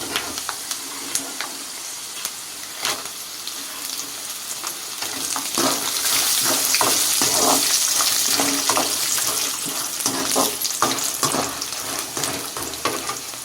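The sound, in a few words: dried red chillies frying in oil with peanuts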